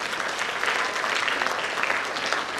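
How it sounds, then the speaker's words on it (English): An audience at a World Autism Awareness Day event gives a steady round of applause for a performer with a hurt leg, a moderately loud continuous patter of many hands clapping together. "So please clap for him."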